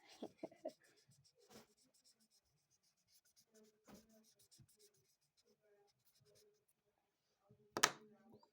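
A pen or pencil scratches over paper in short, quiet bursts with long silent gaps, and a louder scrape near the end.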